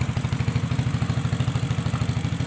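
A small handmade replica Honda Gorilla 50cc mini motorbike engine starts up and settles into a quick, even putter close by, with a faint mechanical clatter and no talk.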